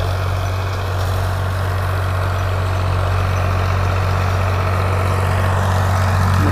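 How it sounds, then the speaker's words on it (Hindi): A Farmtrac 60 EPI tractor engine pulling a rotavator drones steadily at close range, a loud, even heavy diesel rumble with a strong low hum that holds throughout without breaks. "ये ट्रैक्टर दब नहीं रहा बिल्कुल भी, कोई धुआं नहीं है"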